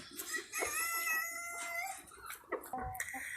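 Brahma chickens cluck and call outdoors at a moderate distance, with a rooster-like crow mixed in and faint background noise.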